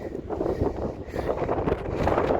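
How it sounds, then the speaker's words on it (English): Gusty wind buffets the microphone in a constant low rumble on a cold, foggy extinct volcano, rising and falling throughout with no speech. "It's windy"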